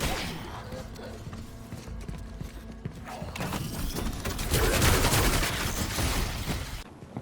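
A fight with a security robot in Callisto Protocol, with dense, loud, continuous combat noise. Heavy thuds, mechanical clanks and gunfire-like bursts build toward the end before stopping abruptly.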